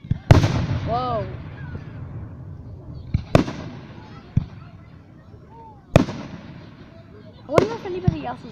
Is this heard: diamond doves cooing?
no